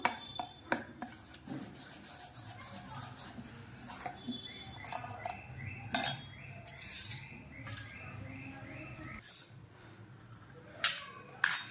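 Fermented dhokla batter is stirred in a bowl, making soft, irregular wet scraping and rubbing strokes at close range, fairly quiet, with a few sharper knocks and no talking.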